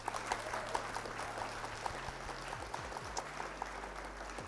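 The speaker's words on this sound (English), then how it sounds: "Round of applause for our opponent." Steady applause from a small group after an online card game tournament match, soft and even, with scattered sharper claps over a low hum.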